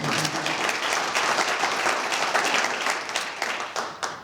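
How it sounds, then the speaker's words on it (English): An audience at a city's State of the City address applauds, a dense wash of clapping that holds steady and then thins toward the end. "I promise you're not going to have to applaud after every single line"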